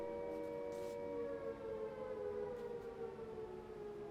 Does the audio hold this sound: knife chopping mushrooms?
no